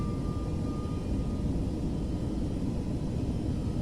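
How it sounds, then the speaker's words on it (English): Airliner engines spooled to takeoff power in Microsoft Flight Simulator 2024, a steady loud roar with a faint whine running underneath, sustained without letup and with no voices over it. "Full power. Takeoff power is set."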